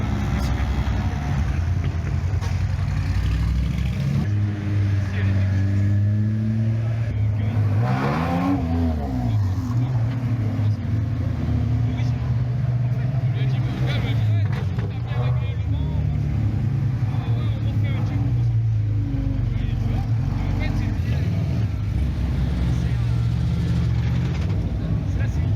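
On the pre-grid at Spa during the 24-hour race weekend, GT4 race cars idle and rev, with engine notes rising and falling over a constant mechanical drone while people talk nearby.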